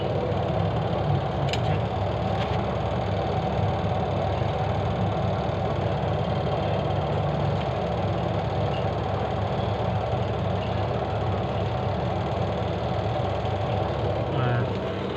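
A washing machine runs after its brake switch was repaired, its motor giving a steady, continuous low hum with a faint mechanical rattle throughout, close and unchanging.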